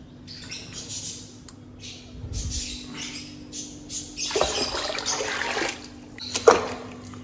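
Boiled water, cooled with ice, is poured out for a cow to drink: intermittent splashing and trickling in short bursts, close by, with a sharper splash near the end and no talk.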